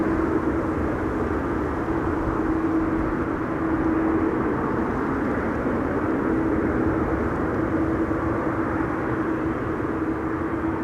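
An aircraft at Schiphol airport taxis after pushback, its engines making a continuous, moderately loud, even drone with a faint steady tone running throughout, and no voices.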